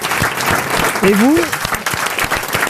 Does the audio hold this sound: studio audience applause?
yes